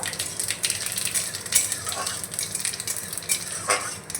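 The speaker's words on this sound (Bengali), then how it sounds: "জিরেটাকে ভেজে নেব" A spoonful of whole cumin seeds fries in hot mustard oil in a pan, a soft continuous sizzle close up, with light scrapes and clinks of a spoon stirring in short bursts.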